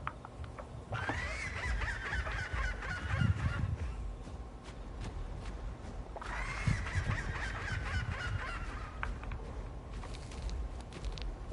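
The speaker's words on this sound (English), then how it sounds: "Ramp is made to sound like a seagull" A Ramp dinosaur from the game Path of Titans gives two drawn-out, seagull-like wailing calls, each rising and holding before fading, spaced several seconds apart over a low rumbling background.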